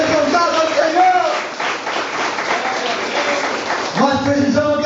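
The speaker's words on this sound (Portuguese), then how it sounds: "Palmas para o Senhor Jesus Cristo." A church congregation breaks into loud, sustained applause that fills the space for several seconds, with speech rising over it near the end.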